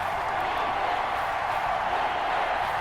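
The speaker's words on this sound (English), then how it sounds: "This crowd dying for a stop." Stadium crowd noise in the Madden 21 football video game, a steady loud roaring hum of a large crowd, continuous and unbroken throughout.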